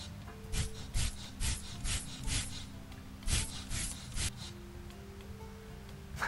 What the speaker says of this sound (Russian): Распылитель воды на волосы.